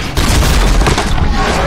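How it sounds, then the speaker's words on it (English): A loud, dense barrage of rocket fire from a robot machine in Horizon Zero Dawn, a continuous roaring, crackling burst lasting under two seconds, close and intense. "Oh, that thing's got rockets."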